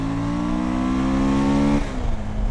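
A Suzuki V-Strom 1000 XT motorcycle accelerating hard in second gear, its engine tone rising steadily and loudly, then dropping sharply as it shifts, heard close from the rider's position with wind noise.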